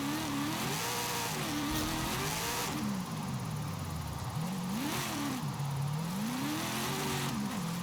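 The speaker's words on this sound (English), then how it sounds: "Is this the loudest V8 in this game?" A loud V8 car engine in Forza Horizon 5 revs up and down repeatedly, climbing and falling in pitch in steady waves, close and alone without talk.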